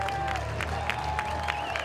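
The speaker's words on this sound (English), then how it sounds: "Crowd starting to come alive" Baseball crowd at an evening LSU home game against Oklahoma, a steady wash of cheering and clapping with scattered shouts, moderately distant and continuous throughout.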